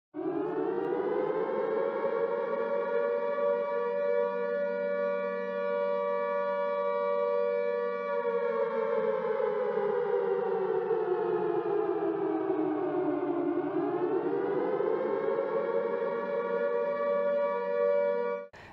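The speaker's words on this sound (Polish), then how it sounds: "Jeden to jest ogłoszenie alarmu i jest to 3-minutowy modulowany sygnał" A civil defense alarm siren sounds the three-minute modulated alert signal, a loud, steady wail that slowly falls and rises in pitch, heard alone without any voices.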